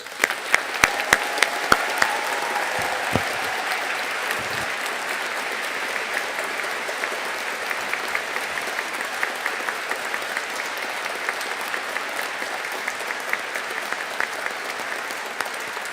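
A large graduation-ceremony audience applauds the Computer & Information Sciences graduating class, a steady sustained roar of clapping from many hands lasting the whole stretch, with a few sharper claps standing out near the start.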